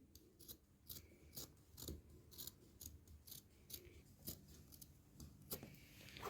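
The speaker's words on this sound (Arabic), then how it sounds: "هنجيب مقص ونقص" Scissors snipping through fabric while a sofa cover is cut, giving a close series of crisp, rasping cuts in an irregular rhythm, with no talking.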